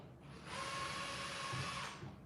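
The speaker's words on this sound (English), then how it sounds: "But I'm going to take my screws out." Power drill backing screws out of an electrical switch box, a single steady high whine lasting over a second that starts and stops abruptly, fairly faint and heard alone.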